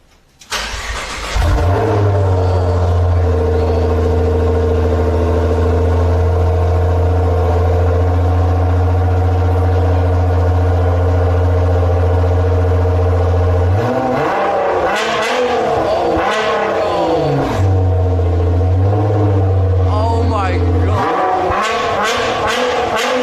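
A Nissan GT-R sports car with a newly fitted aftermarket exhaust starts up and holds a loud, steady idle close by, then is revved hard several times in quick bursts before settling back, with no talk over it.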